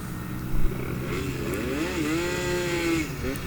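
A MiniGP racing bike's small engine idles steadily after a restart, a loud continuous buzzing drone that rises in pitch briefly as the throttle is blipped, with a short knock near the start.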